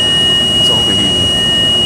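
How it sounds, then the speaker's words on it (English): A warning alarm sounds on an Orion VII city bus, a steady high-pitched electronic tone held throughout over loud engine and road rumble inside the cabin. "Why is that alarm going off?"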